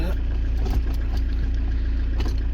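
A campervan engine idles steadily with a low, even hum close by, with a few faint knocks and clicks over it.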